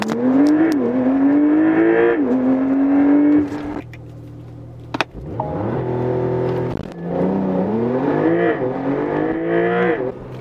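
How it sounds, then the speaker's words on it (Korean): Porsche 911 Targa 4 GTS 50th anniversary edition with a 490 hp flat-six in Sport Plus, accelerating hard to 100 km/h: a loud rising engine howl climbing through gears, brief lifts at each shift, heard from inside the cabin. "이렇게 시속 100km 가속 시간과 거리 측정해 봤습니다."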